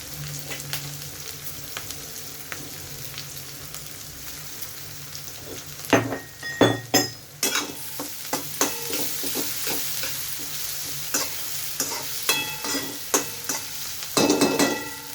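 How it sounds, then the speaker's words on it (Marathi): Chopped onion and green chilies sizzle in hot oil in a pan for a yellow potato bhaji, a soft steady frying hiss joined midway by repeated scraping and stirring strokes. "कांदा एकदा परतून घेऊया"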